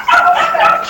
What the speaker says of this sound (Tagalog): Maingay din po yung aso.